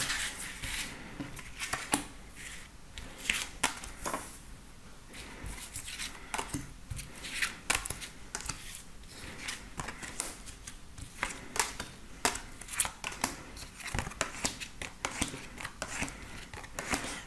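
Tarot cards shuffled and drawn at a reading, a long stretch of close, soft riffling, slapping and sliding card sounds in an uneven rhythm, fairly quiet throughout.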